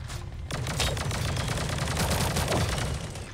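Continuous rapid gunfire in the Sausage Man battle royale video game, a dense unbroken fusillade of shots loud and close, without talk.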